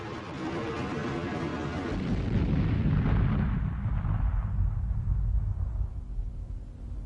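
A-4b rocket on its first launch, failing and blowing apart: a loud, sustained roar that swells into a deep rumbling blast around the middle, then slowly fades as the low rumble lingers, with no voices.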